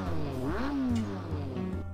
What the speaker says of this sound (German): Ein Motor!